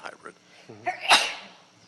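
A single sharp sneeze bursts out in a meeting room during a committee discussion, loud and brief, following spoken talk and trailing off into quiet room tone.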